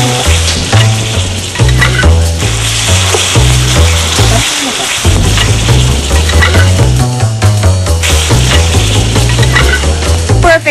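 Buro (fermented fish) sautéing in garlic, onion and tomato gives a steady, close sizzle that runs the whole time beneath loud, rhythmic background music.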